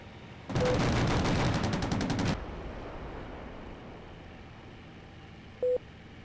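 Sustained cannon and machine gun fire from a Bf 109K-4 fighter in the Aces High flight combat game rips out in one loud, dense burst lasting under two seconds, followed by engine drone and a short electronic tone.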